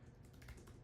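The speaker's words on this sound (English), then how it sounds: "It's hard to type while I'm talking." Brief burst of typing on a computer keyboard, several quick soft key clicks close by, quiet and without speech.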